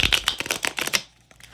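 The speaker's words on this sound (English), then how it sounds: "if I'm wanting to just sit and shuffle a deck without particularly reading it" A deck of tarot cards is riffle shuffled close up in a quick run of crisp, fluttering snaps for about a second, then it goes quiet.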